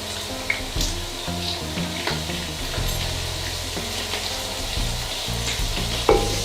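Vegetables sizzle and fry in a pan while being stirred for chicken biryani, a steady close crackle with scraping stir strokes and a few louder clinks, no talking.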